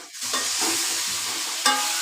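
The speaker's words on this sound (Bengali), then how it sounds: "আমি বারবার মশলাটাকে ভালো করে নেড়ে ছেড়ে দিব যাতে মশলাটা না পুড়ে যায়।" Spice paste stirred and fried in a pan ahead of adding pumpkin and shrimp, with a loud continuous sizzle and scraping stir strokes, one sharper clatter near the end, no voices.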